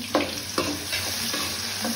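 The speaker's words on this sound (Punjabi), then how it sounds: "ਹੁਣ ਕਰਾਂਗੇ ਪਿਆਜ਼ ਐਡ ਆਪਾਂ" Onions sizzle in a hot pan for palak paneer, a steady close frying hiss broken by a few clattering stirs of a spoon.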